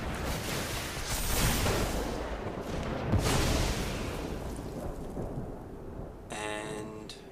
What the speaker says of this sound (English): Let's lightning strike this.